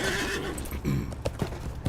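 Horse in the online game Lord of the Rings Online: a steady run of hoof clip-clops with a whinny partway through, close and clear over a faint game ambience.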